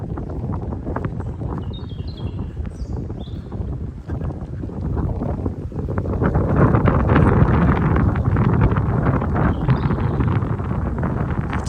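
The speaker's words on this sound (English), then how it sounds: "hardly had any wind, it starts to pick up a little bit" Wind picking up outdoors by a pond on a golf course, buffeting the microphone with a low, rough rumble that grows louder in the second half.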